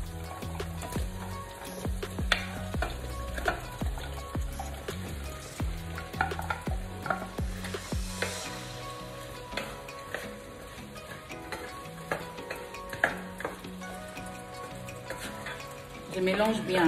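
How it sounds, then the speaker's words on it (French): Okra is stirred into tomatoes, onion and bell pepper frying in a pan, giving a steady sizzle under repeated scraping and knocking strokes of a utensil. "Je viens maintenant ajouter les gombos."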